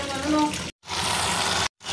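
Water gushes steadily from a broken faucet during a drain-unclogging job, a loud broadband rush broken by two short silent gaps.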